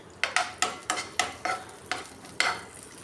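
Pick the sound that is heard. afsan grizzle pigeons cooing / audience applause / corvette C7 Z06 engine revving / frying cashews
frying cashews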